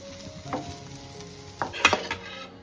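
Kantoli, a wild monsoon vegetable, stir-frying in oil in a pan: soft constant sizzle broken by a few spatula scrapes and clinks, close and fairly quiet, no voices.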